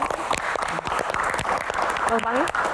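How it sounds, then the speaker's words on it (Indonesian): Audience applause breaks out during a talk show interview, a dense wash of clapping with a voice speaking over it partway through. "Wow, tepuk tangan"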